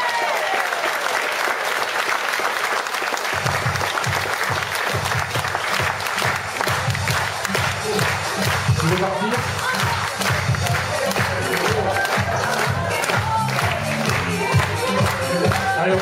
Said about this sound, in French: vous fassiez encore un tonnerre d'applaudissements à Ange